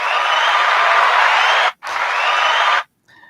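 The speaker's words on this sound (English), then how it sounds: "A little cheap applause there" Brief burst of applause from a small audience, loud and close, clapping steadily before dropping out for a moment, resuming, then cutting off, followed by a faint trailing sound.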